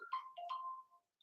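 A phone rings with a short electronic tone pattern of a few quick chirping notes, close and clear, that then stops in a quiet room.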